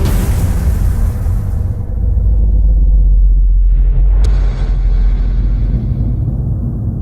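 A Ferrari 488 Pista engine roars with a deep rumble, the pitch climbing and swelling as it revs hard, loud and close throughout.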